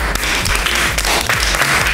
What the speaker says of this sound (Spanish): Adelante, Caroline, fuerte el aplauso, muy bien.